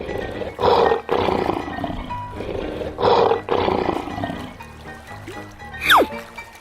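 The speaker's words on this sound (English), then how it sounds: "Lion." A lion roars in a children's animal painting game, with two loud bursts of growling roar a couple of seconds apart over game music, followed by a short swooping effect.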